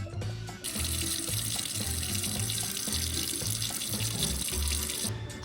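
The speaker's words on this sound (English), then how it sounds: "I'm gonna go dip this in water." Water runs steadily from a tap into a sink, a loud close splashing hiss, with an object dipped in and intermittent low thumps and clunks beneath the flow.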